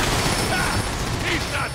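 Gunfire in the Transformers: War for Cybertron video game, a loud, dense burst of rapid shots and booms layered over the game's noisy action soundtrack.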